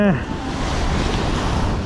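Ocean surf washes steadily onto a beach in Sendai, Japan, with heavy wind buffeting the microphone throughout, loud and continuous, opening with a brief falling tone.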